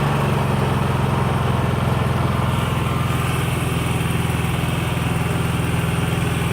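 A Honda EU3000is generator running on propane through a KN regulator, its engine humming steadily and smoothly at close range with an even, continuous drone and no talk.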